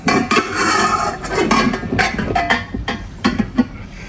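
A mixing bowl holding flour is set onto a stand mixer, producing a series of close metallic clunks and knocks against a background of soft kitchen clatter.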